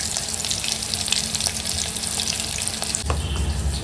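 Masala paste of onion and garlic, with a splash of water added, sizzles in hot oil in a pan, a continuous close crackling hiss with a brief stir or clatter near the end.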